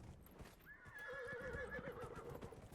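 A horse whinnies in Dragon Age: Inquisition, a clear rising-and-falling neigh lasting about a second, with clip-clop hoofbeats and game ambience running underneath.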